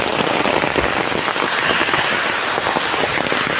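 Heavy rain falls in Kerala, a dense, loud, unbroken hiss of drops pelting surfaces close by, with no voices.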